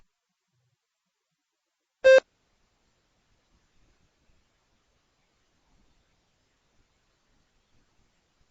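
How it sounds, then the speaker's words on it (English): A single short electronic beep from a TOEFL speaking practice test sounds once, then silence follows for several seconds. "Begin to prepare your response after the beep."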